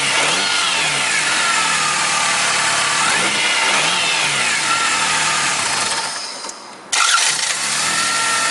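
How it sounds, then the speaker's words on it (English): A 1991–2002 Toyota Camry engine with a noisy alternator belt runs loud and steady, dips nearly to silence, then abruptly fires back to life and keeps running, with no talking. "then I go to start engine"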